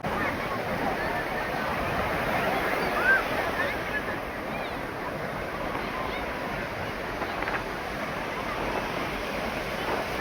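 Bay of Bengal sea waves at Mahabalipuram beach, near the Shore Temple, make a steady broadband wash of surf mixed with wind noise, continuous and moderately loud.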